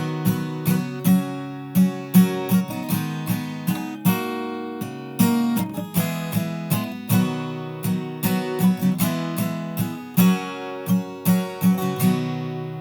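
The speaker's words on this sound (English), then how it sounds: "the full thing, full speed, is going to sound like this" Strummed acoustic guitar chords for a song play at full speed in a steady repeating rhythm, each strum bright and distinct, close and alone without any talk.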